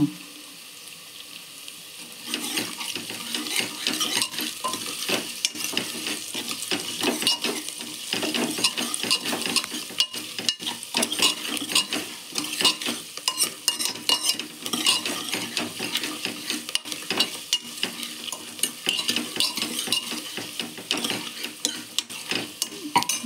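Finely chopped ginger and garlic are stirred with onions in a frying pan, and a utensil scrapes and clatters against the pan in a busy, continuous rhythm.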